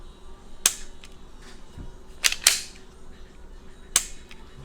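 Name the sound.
dry fire shooting with Mantis X10 Elite training system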